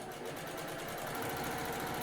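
A sewing machine stitches near the edge of fabric at a small stitch length, a fast steady mechanical whirr with a close, even rhythm and no pauses.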